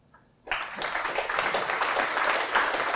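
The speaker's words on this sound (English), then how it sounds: "you could clap again" Audience applause breaks out at a tech conference talk on building functional reactive view models, starting abruptly after a quiet moment and holding steady as a dense, loud wash of clapping from a full room.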